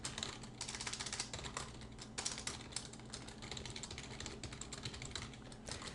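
Steady computer-keyboard typing during a beginner C++ programming session, a fast run of light clicking keystrokes with brief pauses, close and fairly quiet throughout, with no talking.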